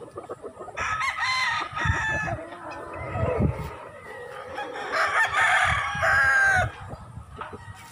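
A rooster on a Filipino gamefowl farm crows loudly and repeatedly, with clucking in between, close by and with no talk over it.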